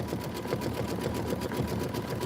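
A sewing machine runs steadily for a quiet stretch, its motor giving a soft, continuous mechanical whir with a faint rapid stitching pulse and no voice over it.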